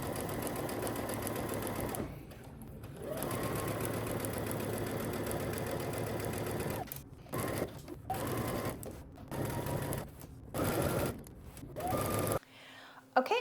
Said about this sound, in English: we're going to head to the sewing machine